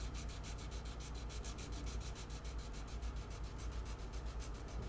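Rhythmic back-and-forth rubbing of 220 grit sandpaper by hand on a grafted mahogany guitar headstock, steady strokes at an even pace, close and continuous with no talking.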